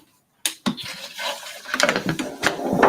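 Water splashes into a glass in short bursts after a brief silence, a close, bright trickle that rises and settles, poured over Scotch whisky.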